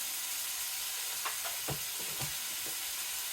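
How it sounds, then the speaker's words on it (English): Garlic sizzles and crackles in a hot skillet, a soft continuous fry with a few brief pops and stirring taps, fairly quiet and without voices. "So we'll add about a clove of garlic to our skillet"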